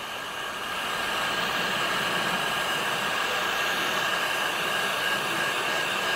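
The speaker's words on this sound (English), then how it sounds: "I wouldn't let the heat gun stay in any one position for longer than you have to stay there." Heat gun blowing hot air while softening and removing adhesive, a steady close-up whooshing roar that starts softly and then holds at full strength, with no talking.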